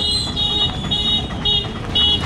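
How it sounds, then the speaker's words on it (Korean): A car horn honks in repeated short bursts on a busy street in Jaisalmer, India, over a low rumble of traffic and engine noise. "또 아무 이유 없이 그냥 빵빵 거리는 것 같아."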